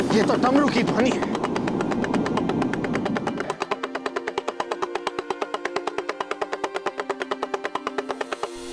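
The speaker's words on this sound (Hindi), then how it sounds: "ये तो डमरू की ध्वनि है।" A damaru, the small hourglass hand drum, rattles in a fast, steady, even roll after a dense stretch of voices and music fades out; the rapid strokes sound close and prominent.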